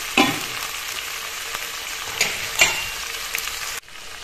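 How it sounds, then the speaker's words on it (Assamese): Chicken pieces for a beetroot chicken curry sizzle and fry in a pan, a steady close hiss broken by a few sharp spatters and stirring knocks, cutting off abruptly near the end. "তাৰপিছত মই এতিয়া মাংসখিনি বহুৱাই দিম।"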